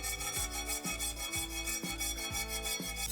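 A hand saw cuts through a 1.5 mm titanium plate in close, rhythmic back-and-forth strokes, about six passes with a rasping metallic scrape and a faint high ringing, and no talking.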